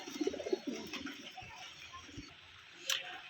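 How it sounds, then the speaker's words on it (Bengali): Local domestic pigeons give low, soft cooing near the start, then the sound fades to a faint hum of surroundings with a brief bright chirp near the end. "তো বন্ধুরা এই একটা পায়রা দেখুন, দেশি পায়রা।"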